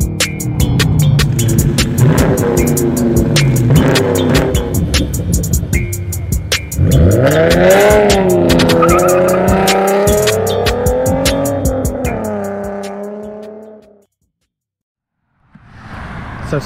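A 2019 Honda Accord Sport with a 1.5L turbo engine accelerates hard on a test drive, its engine note loud and rising through gear changes before cutting off abruptly into brief silence.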